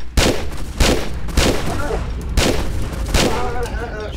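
Gunfire in Tomb Raider 3 at the Temple of Puna: five sharp, loud shots spaced about half a second to a second apart, each with a short booming tail, with no talk over them.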